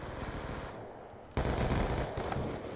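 Gunfire from a Call of Duty: Black Ops 2 free-for-all match on PC, a dense, loud stretch of rapid shots and bursts that swells sharply partway through and stays busy to the end.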